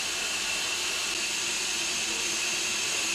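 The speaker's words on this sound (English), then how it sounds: "I should imagine that's vacuum for coaches." Steady, loud hiss and whoosh from a steam locomotive's vacuum system for the coaches, a continuous broadband rush with no breaks and no voices.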